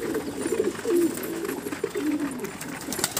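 Pigeons kept in a loft coo steadily and close by in low, throaty, overlapping calls, with soft rustling around them and no talking.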